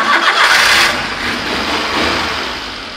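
Engine of a used Japanese mini truck, over 25 years old, turning over and catching, then running at a steady, fairly loud mid-pitched idle close by with no talk over it.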